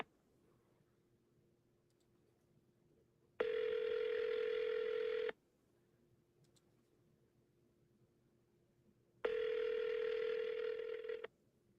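An outgoing phone call rings unanswered: two steady electronic ringback tones, each lasting about two seconds and separated by several seconds of quiet line hum, heard clearly with no talking.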